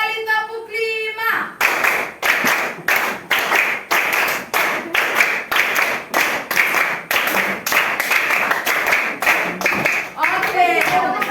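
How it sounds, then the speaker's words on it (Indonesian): A group of children clap hands together in a lesson, about twenty loud sharp claps in a steady rhythm, close by, with voices speaking just before and after. "Oke, tepuk tangan bersama."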